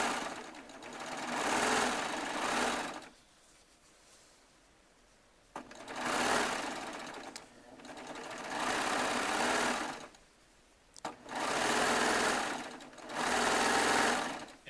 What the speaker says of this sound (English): I'm going to make a rail fence on the serger.